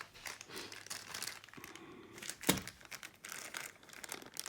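Kitchen tongs freed from their plastic packaging, heard as close crinkling and rustling of plastic with one sharp tearing crack midway, then more handling noise.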